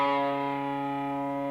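A single sustained guitar note from the second measure of a song, played with distortion and a chorus-like shimmer, rings steadily and slowly decays.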